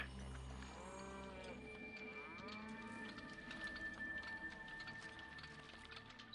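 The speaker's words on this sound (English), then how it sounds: "Cattle ranches." Cattle at a ranch in the city-building game Pharaoh and Cleopatra low in a few drawn-out, wavering moos over a steady backdrop of game ambience and faint ticking, with no talk.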